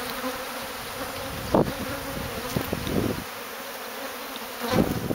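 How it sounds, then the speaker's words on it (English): Honeybees from a hive in a camper buzz steadily in a dense droning hum, close and continuous, with a few louder bursts as individual bees pass near. "Looks like I got a bunch of bees hanging on to the underside of the screen bottom board"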